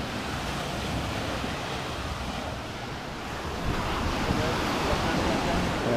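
Ocean waves wash steadily onto a beach in a continuous broad roar, with wind buffeting the microphone and swelling slightly toward the end.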